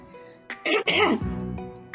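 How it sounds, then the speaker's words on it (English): A single harsh, throaty cough bursts out close up, followed by a short rasping clearing of the throat. "he began coughing up the yarn and trying to spit it out"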